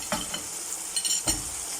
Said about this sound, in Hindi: अब मैं इसके अंदर टमाटर और हरी मिर्ची ऐड करूँगी